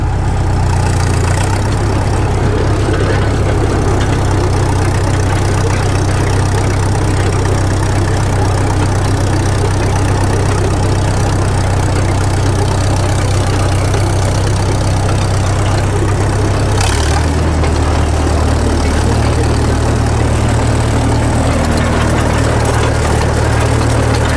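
Caterpillar D2 crawler tractor engine running steadily under load in second gear, a loud continuous low diesel chug with a slight shift in tone partway through, no talk.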